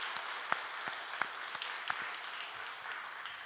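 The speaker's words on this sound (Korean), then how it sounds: "박수할까요?" A church congregation applauds the worship team and choir during a Sunday morning service, a soft, distant patter of many hands with a few sharper claps standing out, fairly faint throughout.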